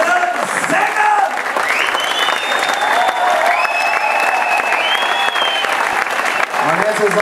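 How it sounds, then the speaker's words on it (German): Audience aboard an AIDA cruise ship gives loud, sustained applause after a tribute show, dense clapping with cheers and whistles rising over it and music faintly underneath. "Und jetzt ist euer riesen Applaus"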